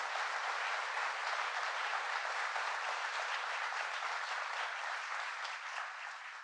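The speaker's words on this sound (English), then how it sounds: "So please give her a round of applause." An audience applauds Governor Hochul at an IBM event for President Biden, a steady, dense wash of clapping from a large crowd that holds at even strength for several seconds before easing slightly at the end.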